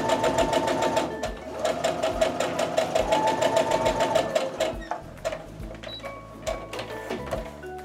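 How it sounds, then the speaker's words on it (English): A sewing machine stitches jelly roll fabric strips together for a rug, running in a steady rapid whir with brief pauses and restarts near the end. "I'm gonna go ahead and sew from one to the next."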